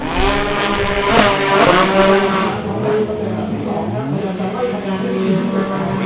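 Several racing jet ski engines whine and rise in pitch together at a pro tour race, droning continuously at high revs while a voice talks over them.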